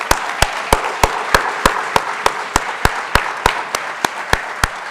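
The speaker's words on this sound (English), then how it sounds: "Let's give her a round of applause anyways." An audience at a school award ceremony claps in a steady, even rhythm, sounding about twenty sharp claps over a bed of crowd noise, with no talking.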